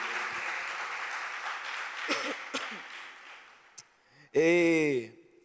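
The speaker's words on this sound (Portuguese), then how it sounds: "você pode aplaudir ao Senhor?" A church congregation claps and cheers in a sustained burst that gradually fades out, followed by a single clear voice speaking loudly up close.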